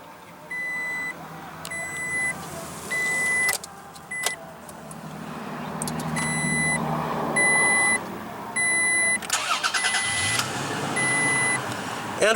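A 2016 Toyota Tacoma's 3.5-liter V6 idles steadily and low, while a repeating electronic chime beeps in short evenly spaced bursts over the engine hum.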